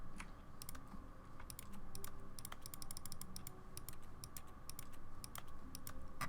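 Rapid, irregular clicking from a computer mouse that sounds just like typing on a keyboard, bursts of sharp close taps in clusters with brief pauses, over a low background hum and no speech.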